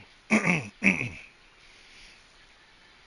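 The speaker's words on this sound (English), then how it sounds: "if I have to clear my throat or cough, I apologize" A man clears his throat twice in quick succession, close to the microphone, with short rough bursts followed by faint breathing in a quiet room.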